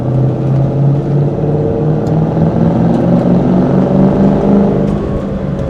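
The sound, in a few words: 2003 Ford Mustang Mach 1 V8 engine, 5-speed, driving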